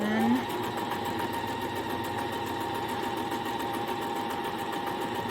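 A sewing machine stitches a 1/4 inch seam on a fabric kitchen scarf, its motor whirring continuously close by with a fast steady needle clatter after a short rising start.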